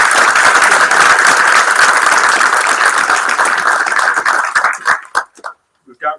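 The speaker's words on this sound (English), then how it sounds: "So why don't you guys give a round of applause for them," Loud crowd applause at a game studio job fair honoring student game teams, dense sustained clapping that thins out and fades to a few scattered claps before stopping near the end.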